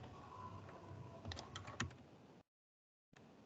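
Someone types on a computer keyboard while setting up a network router: faint, quiet clicking in quick bursts, a few sharper keystrokes, then a brief silence before soft noise resumes.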